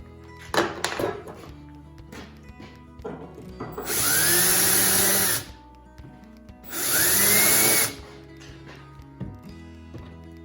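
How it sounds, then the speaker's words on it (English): A power drill whines through two bursts of a few seconds each, drilling holes in wooden beehive frames, with clattering handling noises before and between. "And then we'll drill our holes through there."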